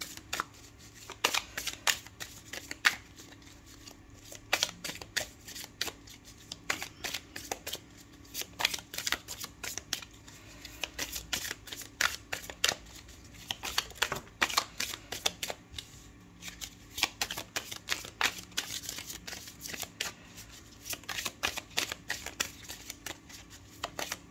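Tarot cards are shuffled close up, with continuous riffling and flicking bursts in an uneven rhythm for over twenty seconds and no talking.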